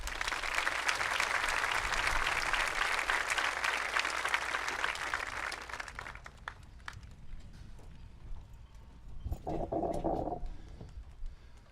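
An audience at a high school graduation applauds retiring staff, a full round of clapping that fades out about halfway, leaving quieter room noise and a brief murmur.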